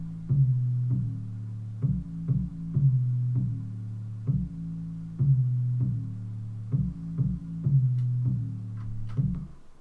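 Deep 808 bass from a Cubase 8 production plays a repeating pattern of low, sustained booming notes with pitch glides, each note starting with a soft click. It is loud and alone, with no voices.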